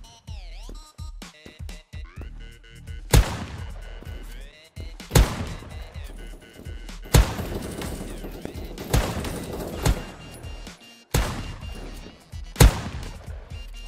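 The Vince shotgun in Krunker.io fires in single heavy blasts, about six shots spaced roughly every two seconds, each sharp and booming over busy game effects, with no talking.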